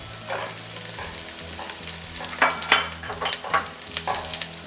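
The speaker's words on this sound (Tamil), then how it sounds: "வெங்காயம் போட்டுருவேன். வெங்காயம் பெருசு பெருசாக அரிஞ்சது," Large-chopped onion fries in a pan for ginger chicken, a moderate sizzle broken by scraping stirs and a few clattering knocks of the spoon against the pan.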